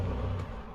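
A BMW 840Ci rumbling past close by with engine revving, a brief burst of car noise dominated by deep engine rumble that tails off slightly.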